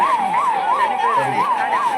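A wailing ambulance siren sweeps up and down in a steady, rapid cycle, loud and close, during a rescue mock drill staged for a war situation at an RTC compound.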